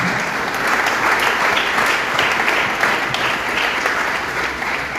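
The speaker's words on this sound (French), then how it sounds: "on applaudit encore tous ces amis qui sont venus" A hall audience at a French-speaking gathering claps steadily for about five seconds, giving dense, loud applause from many hands with no pauses.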